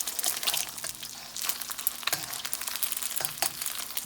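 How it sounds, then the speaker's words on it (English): Egg being scrambled in a hot wok for shrimp fried rice, a steady close sizzle with scraping stir strokes running throughout, no voices. "So let's put this egg and just scramble it in there real good."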